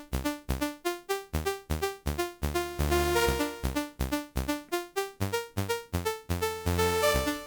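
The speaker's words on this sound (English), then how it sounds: "It sounds like this without effects." A basic dry synth with no effects plays a rhythmic pattern of short plucked chords, repeating evenly and clearly alone.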